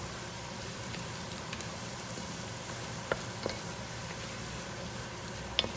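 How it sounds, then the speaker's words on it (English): Tomato paste and vegetables sizzle in a pan for a rabbit ragu, a steady, dense frying hiss with a few light clicks from stirring. "Just cooking the tomato paste at the same time."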